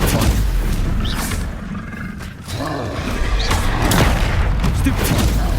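Stupefy spell cast in the Hogwarts Legacy video game, a loud, dense magical blast amid continuous booming combat noise, with a roaring surge and impact near the end.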